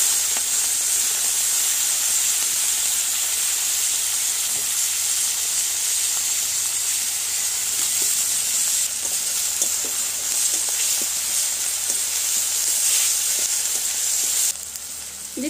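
Green chillies and tomato sizzle in a frying pan, a continuous hissing fry that holds steady throughout, with a few faint clicks and scrapes before it drops slightly near the end.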